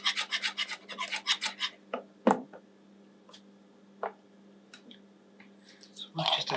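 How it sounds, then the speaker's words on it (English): Block of cheese rasped against a grater for a lasagne topping, several quick scraping bursts close by at the start, then sparse knocks and light scrapes, ending with another short flurry. "I'll grate some more to go on the top"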